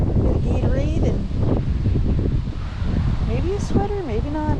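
Gusty wind buffets the microphone in a loud, continuous rush, with a voice speaking over it in brief fragments.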